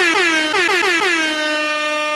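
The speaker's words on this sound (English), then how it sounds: "the air horns, man" Loud air horn blasts, a short burst of several rapid honks followed by one long sustained blare, heard alone and close with no talk.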